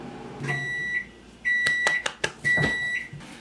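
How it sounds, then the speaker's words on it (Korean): Microwave oven reheating leftover rice cake soup: a steady low hum runs alongside a series of several sharp, bright electronic beeps, heard close up with no one talking. "밥 먹어야 되는데 어제 떡국 남, 먹고 남은 게 있거든요. 전자레인지에 돌리고 있어요."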